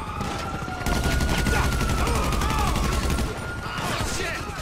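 Rapid gunfire bursts and a fusillade in GTA V Online, loud and continuous through most of the moment with a steady game tone underneath and a brief lull near the end.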